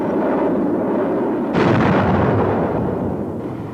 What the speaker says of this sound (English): This gun camera footage shows an Iraqi hangar being destroyed by an AS-30L.